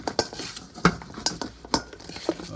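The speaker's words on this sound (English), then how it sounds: "Just use a spoon to work this in." Spoon working food in a dish for a lamb chop dinner, a few irregular clinks and scrapes of metal on the dish spaced apart, close and moderately quiet.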